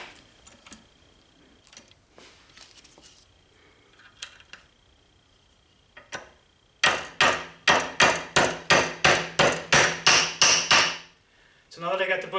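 Bushings are hammered into Mustang Fastback door hinges, with a few quiet taps and clinks giving way to a steady series of about a dozen loud, ringing metal hammer blows. A short burst of noise follows.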